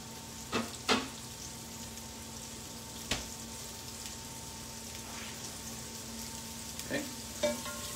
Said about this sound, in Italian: questa parte la mia cipolla inizia a soffriggere